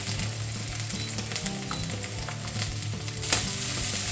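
Chopped spring onion sizzles in hot oil in a wok for a vegetable stir-fry, a continuous close crackle broken by light clinks and scrapes of stirring, with no voices.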